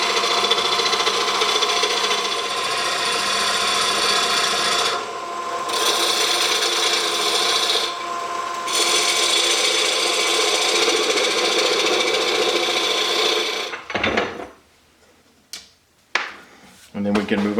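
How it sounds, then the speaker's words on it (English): A gouge cutting wood on a lathe while woodturning, giving a steady, loud rasping hiss that runs for about fourteen seconds with two brief pauses and then breaks into short, scattered scrapes. "you'll notice that I'm working with my gouge because my skew is on a time out."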